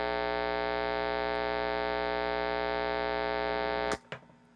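Steady electrical hum and buzz from two active guitar pedals on a pedalboard with no noise suppressor, a dense harmonic drone holding constant for about four seconds before cutting off abruptly, followed by a couple of faint clicks.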